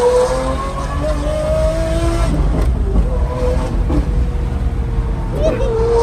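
A tuned V12 supercar engine idling and revving close by, a loud continuous rumble with shifting tones, under a voice.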